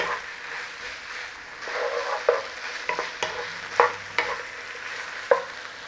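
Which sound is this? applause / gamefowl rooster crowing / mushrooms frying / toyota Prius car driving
mushrooms frying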